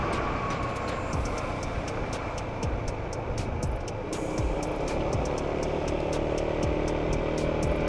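A tram rolling along its tracks in Dresden, heard from a city street on a Yamaha Tricity 300 scooter, with a continuous rumble, mixed traffic noise and sharp repeated rail clicks and squeals.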